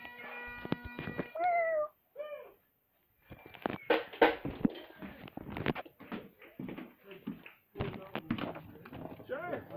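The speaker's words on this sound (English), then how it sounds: "Silly meow cat." A cat meows a few times at close range, with people talking around it and other household noises between the calls.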